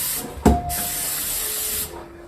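Butter-flavored cooking spray hisses from a can into a cake pan for a chocolate sponge cake: one steady spray lasting over a second, close and loud, after a brief clunk.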